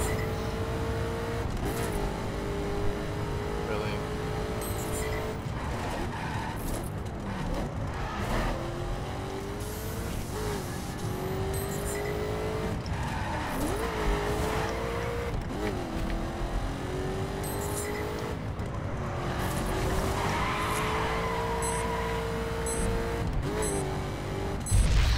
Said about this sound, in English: I really wanted a V8 drift car.